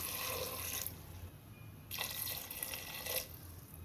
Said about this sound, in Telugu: వాటర్ వేసేసుకుందాం.